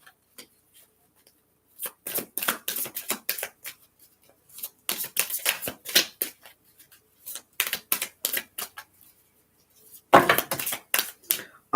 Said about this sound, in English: I'm going to give it a couple good shuffles.